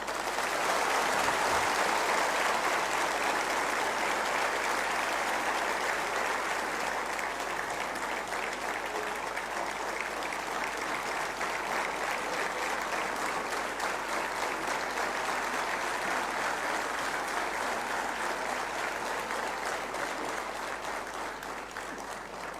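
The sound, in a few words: audience applause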